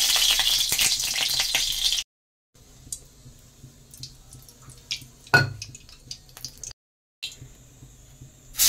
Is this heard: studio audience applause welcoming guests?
no